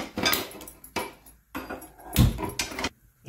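A metal wok (kadhai) is set onto a gas stove, giving a few quiet separate clanks and knocks of cookware against the burner, with no one talking.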